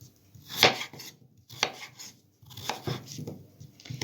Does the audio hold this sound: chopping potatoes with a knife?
yes